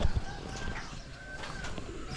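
Pet pigeons or doves coo in a backyard bird pen, soft repeated low calls with light rustling, close by and fairly quiet, with no one talking.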